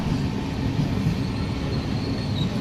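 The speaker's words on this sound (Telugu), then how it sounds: "Kakinada port Sainagar Shirdi Bhavnagar express" The Kakinada Port–Sainagar Shirdi–Bhavnagar Express rolls past on the Nallapadu branch line near Guntur. A steady, close rumble of coaches and wheels on rail carries on throughout, with a faint high wheel squeal and no voices.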